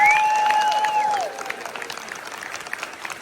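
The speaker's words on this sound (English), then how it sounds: "So give him another round of applause." Audience applause with scattered cheers at a 40th anniversary celebration on a studio backlot, a steady wash of clapping from a crowd as a sustained tone fades out early, thinning slightly toward the end.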